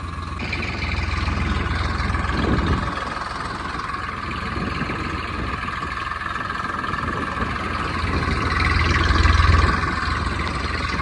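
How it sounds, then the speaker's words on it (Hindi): A New Holland 3660 tractor drives along a village road toward a field, its diesel engine droning steadily and loudly at an easy, unhurried pace with slight swells in intensity and no talk. "देखो आराम आराम से जा रहा हूँ अपना ट्रैक्टर"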